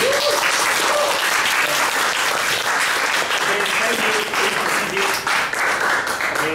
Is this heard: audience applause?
yes